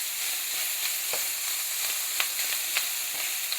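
Stuffed peppers cooking in a pan on a turned-down burner give off a steady, dense sizzle and fry, with scattered light pops and spatters throughout, close and continuous, with no one talking.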